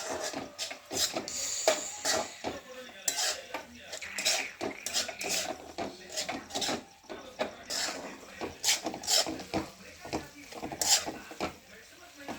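Spring onion greens stir-fried in a pan bring repeated close metallic scrapes and clinks of a utensil against the pan in an uneven rhythm, with a voice speaking at times.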